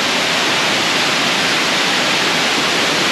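River water rushing steadily at Engkanto Falls in Libmanan, Camarines Sur, a dense, even roar of flowing water, close and loud, with no voices.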